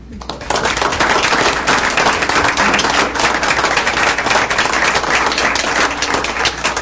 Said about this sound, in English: I would ask you to applaud the person that has made all this possible